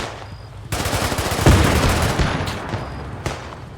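Gunfire in the WWII tank game Spearhead 1944: a burst of loud, rapid shots begins partway in, with a heavier blast near the middle and another sharp report toward the end, dense and close.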